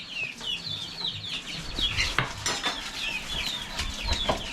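Dewormer being stirred into chicken feed with a plastic spoon, scraping and clinking softly in short repeated strokes while hens cluck and chirp nearby throughout.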